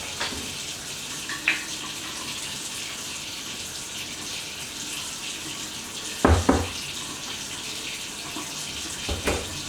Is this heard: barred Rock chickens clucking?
no